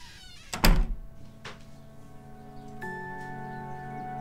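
A door shutting indoors, one sharp thunk near the start followed by quieter room sounds and a steady hum.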